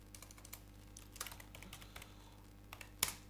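Fast, uneven typing on a computer keyboard, close and crisp, with irregular key clicks, a few heavier strokes and a sharp final keypress, alone without talk.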